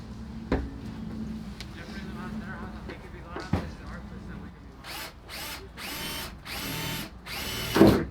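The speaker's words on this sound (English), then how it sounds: "They're drilling in these areas." Several loud bursts of a power drill whirring in short runs, drilling holes in a Mitsubishi Lancer rear diffuser area, following a stretch of quieter background noise and faint voices.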